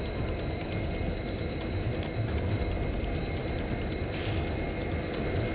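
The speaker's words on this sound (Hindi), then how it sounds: "वंदे भारत ट्रेन बर्फबारी के बीच यात्रियों को स्नोफॉल का अद्भुत नजारा दिखाते हुए आगे बढ़ रही है" A Vande Bharat train running through snowfall in Jammu and Kashmir gives a continuous dense rumble and rattle of wheels on rails, steady and close throughout, with a brief hiss near the end.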